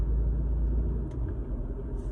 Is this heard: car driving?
yes